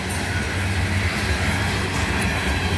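A CN ballast freight train passes close by, a loud continuous rumble and roar of rolling wagons with steady low-end drone and faint wheel clatter, no voices.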